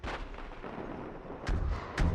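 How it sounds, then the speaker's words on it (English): Gunfire in a military video game: a rumbling low background, then a couple of sharp, heavy blasts near the end. "We're taking fire here."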